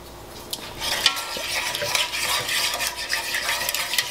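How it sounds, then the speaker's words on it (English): A spoon stirs homemade jerk dipping sauce in a pot, scraping and clinking against the sides in quick irregular strokes, close and fairly loud, with a soft sizzle underneath. "I'm just gonna stir it for a bit."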